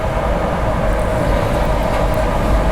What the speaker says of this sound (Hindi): तो बगल से क्रॉस हो रही है पुणे लखनऊ एक्सप्रेस।